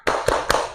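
Classroom of students doing the 'tepuk semangat' rhythmic clapping chant, two sharp claps standing out over a dense wash of many hands and voices, close and loud.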